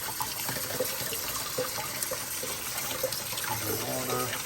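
Tap water running over soaked chopped red onions being rinsed, a low steady splashing and gushing flow, faint and continuous, with a voice talking over it.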